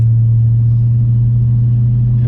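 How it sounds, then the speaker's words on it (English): A 1994 Lexus LS400 engine with a freshly fitted exhaust idles steadily up close, a loud, even low rumble holding constant throughout without any revving. "the first startup with the new exhaust on my brother's 94 LS400"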